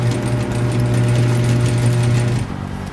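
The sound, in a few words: sewing machine sewing a wedding gown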